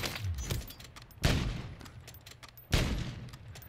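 Two loud, sharp sniper rifle shots in a mobile shooter game, the first about a third of the way in and the second near the end, each ringing out with a long decaying tail over quiet background noise.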